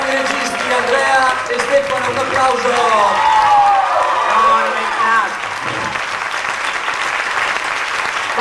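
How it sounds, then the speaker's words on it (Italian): Dense, loud audience applause fills a theatre at a 1998 premiere, steady throughout, with voices talking and calling out over the clapping. "Un applauso"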